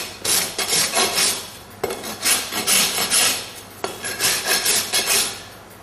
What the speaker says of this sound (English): Now touch it with a rasp.